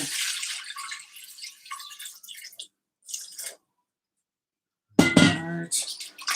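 Water poured from a tap into a bowl for a whole-grain sourdough dough: a bright, splashing stream in two bursts separated by a silence, with clinks of the bowl and a person talking.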